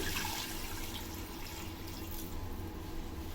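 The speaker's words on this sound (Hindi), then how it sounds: "अब मैं इसमें ऐड करने जा रही हूँ 3 गिलास पानी।" Water poured into chicken nihari in a pot, a continuous rushing, splashing flow of liquid that stays fairly steady and close for a few seconds, with no talking.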